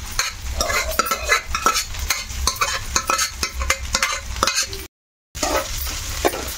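Cooked moong dal and rice are stirred together in a pan for sweet pongal, with close scraping and clattering of a spoon over soft sizzling, broken by a brief dropout of sound near the end.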